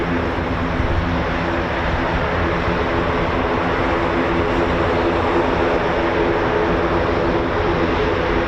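Airbus A400M Atlas turboprop transport at RAF Coningsby, a steady loud droning roar with propeller hum and tonal bands, continuous and fairly close throughout.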